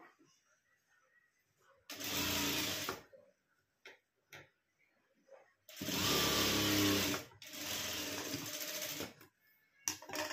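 Sewing machine stitching a blouse waistband in bursts: two short runs and a longer run of rapid, buzzing stitching, loud and close, separated by quiet pauses with small clicks and handling noises.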